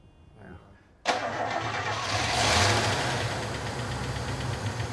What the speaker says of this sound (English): Shall we fire it up?